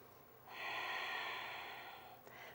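A single slow, steady breath drawn through a constricted throat in Ujjayi yoga practice during a squat pose, a soft, close, airy hiss lasting a couple of seconds, then tapering off.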